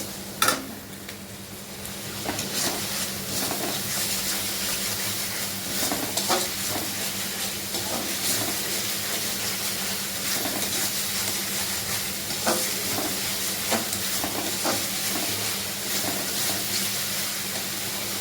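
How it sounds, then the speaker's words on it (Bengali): Masala with salt being sautéed in oil in a pan, producing a continuous close sizzle with repeated scraping and stirring knocks of a spatula against the pan. "ভালো করে কষিয়ে নিচ্ছে এটাকে"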